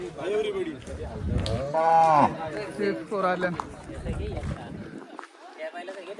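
Bullocks low repeatedly in long, drawn-out calls close by at a bullock-cart race ground, amid a busy outdoor crowd with people chattering throughout.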